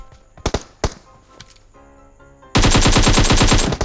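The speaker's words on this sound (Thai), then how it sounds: "เสียงปืนแบบดังมาก" In PUBG Mobile, a few scattered gunshots give way to a sustained, very loud stream of rapid automatic fire that dominates the second half.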